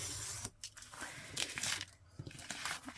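Scissors cutting through a paper window envelope to trim a tall, thin pocket tag, close papery snipping and rustling in short uneven strokes, faint and without talk.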